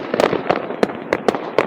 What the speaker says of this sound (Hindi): तो यहाँ पे पटाखे चलना शुरू हो गए